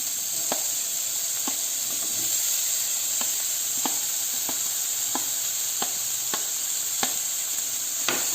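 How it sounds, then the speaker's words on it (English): Green peppers hiss and sizzle steadily in a frying pan, with regular soft clacks of tossing or stirring about every second under the continuous fry; no talking. "as the green peppers are nicely getting tossed"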